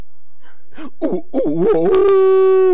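A person imitates a wolf howl with their voice, starting with a few short rising vocal bursts that build into a sustained, steady howling tone, loud and close.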